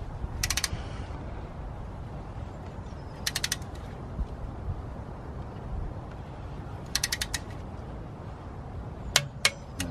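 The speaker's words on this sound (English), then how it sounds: "I'm just going to torque these down now." Ratchet clicking in several short bursts as wheel hub bolts on a BMW are torqued down, crisp mechanical clicks separated by pauses over a low background rumble, close by and with no talking.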